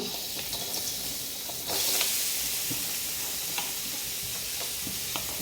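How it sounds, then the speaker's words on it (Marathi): Onion frying in oil in a kadai, a steady close sizzle with a brief louder surge as it is stirred and occasional light scrapes, no talking. "आपण आता कढईमध्ये टाकणार आहोत एक कांदा परतवायला"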